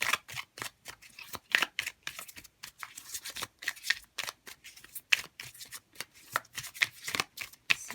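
Tarot deck shuffled by hand in quick bursts of riffling card edges, close and crisp, each flurry separated by short pauses over about eight seconds, with no speech.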